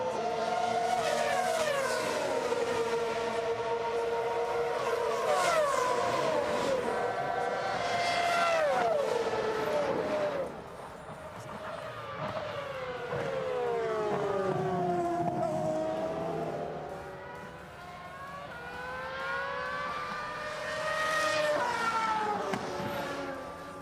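Several high-revving Ferrari race cars scream past at the Imola circuit, engines rising and falling through gear changes, loud and continuous with overlapping passes.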